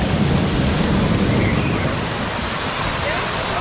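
Water splashing and rushing steadily at a waterfall on a resort lazy river, a dense, constant roar filling the whole clip at close range with no breaks.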